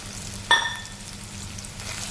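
Red chilli powder, garam masala and turmeric frying in oil for chicken sukka, with a sharp sizzling burst followed by a steady soft crackle.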